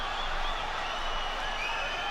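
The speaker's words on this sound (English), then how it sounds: "Have you ever heard a crowd like this?" A packed UFC arena crowd roars through the late seconds of round 3 of Islam Makhachev versus Alexander Volkanovski, a steady, dense wall of cheering with no break.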